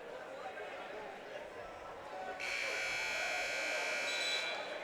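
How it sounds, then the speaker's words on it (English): A buzzer sounds from a neighbouring consolation wrestling match in the arena at the NIC Wrestling Championships, a steady tone starting midway and holding for about two seconds, fairly loud over crowd noise and commentary. "you might hear some buzzers and stuff. That's not for our match."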